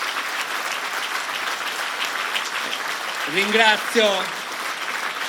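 Sustained applause from an audience at a municipal public event in Nuoro, a peace gathering for Palestine, steady and dense throughout, with a voice briefly speaking over it near the end.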